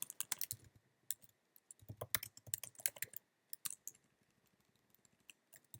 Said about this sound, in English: And if I want, I can type something else.